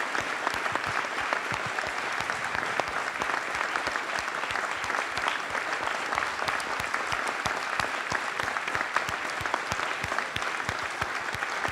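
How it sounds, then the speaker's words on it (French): An audience at an evening lecture on the future of life on Earth gives a long, even thunder of applause, dense steady clapping from a large hall crowd without pause, with no speech over it. "Je vous demande un tonnerre d'applaudissements pour Hubert Reeves"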